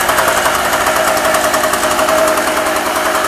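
Small two-stroke generator engine running steadily, a dense, buzzing mechanical drone with a slightly knocking texture, close and constant throughout with no talk.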